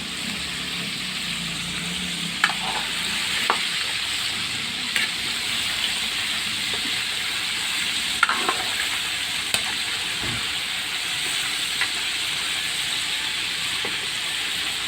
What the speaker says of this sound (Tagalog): Papakristil lang natin to guys.